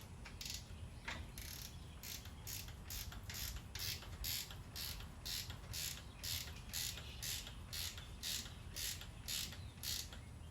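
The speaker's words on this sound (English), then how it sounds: "Trusty cheapo ratchet wrench." Cheap ratchet wrench turning during work on a 2007 Jeep, a steady run of quiet rhythmic clicks at an even pace over a low background hum, close but faint, no talking.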